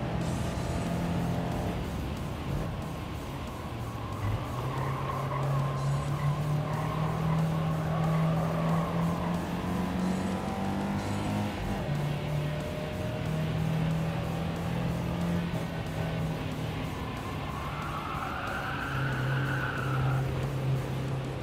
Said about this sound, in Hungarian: Porsche 356-os.